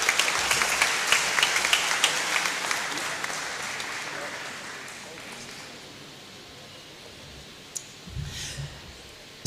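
Audience applause at a hackathon award ceremony, dense clapping that is loudest at the start and fades steadily over several seconds, ending with a few faint noises and a soft voice.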